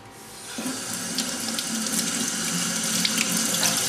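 Fresh parsley is rinsed under a running kitchen tap while preparing a beef and potato stew; the water starts abruptly and then pours steadily and loudly into the sink, close up and without talk.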